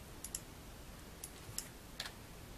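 Light, quiet keystrokes on a computer keyboard, a handful of separate clicks spread unevenly across a couple of seconds against faint room noise.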